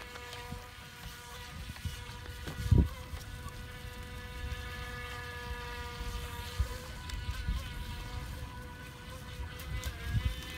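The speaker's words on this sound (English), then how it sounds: "So Declan, show us what this boat can do." An RC Venom power boat capable of about 15 mph runs zigzags and sharp turns on a lake, giving off a steady distant motor whine with wind noise and a couple of brief bumps, no talking.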